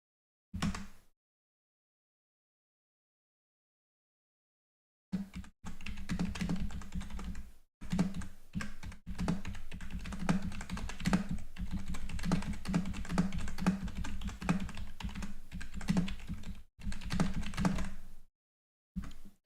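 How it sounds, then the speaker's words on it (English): Rapid typing on a computer keyboard during a live stream, close and quiet with irregular clusters of key taps, set off by a few silent pauses. "Sorry, I was typing something in chat."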